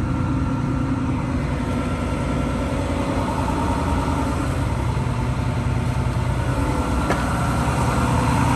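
A John Deere 290G excavator with about 6,000 hours idling, a steady low diesel rumble that holds constant and fairly loud throughout, with no talking.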